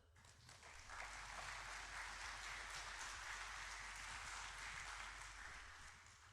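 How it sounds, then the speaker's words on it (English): Faint, steady applause from an audience at a broadband community meeting in Wayne County, a dense patter of clapping that swells in and fades out over several seconds. "let's have a round of applause for her"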